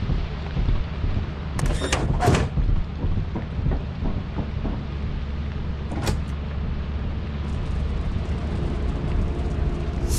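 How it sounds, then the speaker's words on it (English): Eyeless dog creature in the game Lethal Company, a couple of sharp, brief bursts around two seconds and again near six seconds over a steady roar of rain and low rumble outdoors. "what you just heard there was an eyeless dog."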